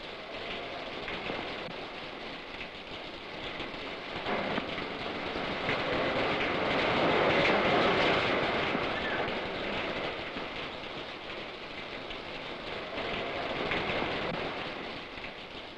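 Rain falls in a broad, steady hiss that swells and fades slightly, with no clear individual drops and no voices.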